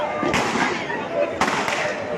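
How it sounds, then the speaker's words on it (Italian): New Year's fireworks in Cagliari burst in sharp, booming cracks, several in quick succession with crackling between them, loud and close, with voices faintly underneath. "Ancora esplosioni"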